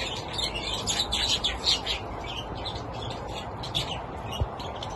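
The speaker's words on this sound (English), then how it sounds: "So this is the Aviary, chirpy chirpy birdies." Budgies chirp in an outdoor aviary in a steady overlapping chatter of high tweets over a constant noisy background, with no voices.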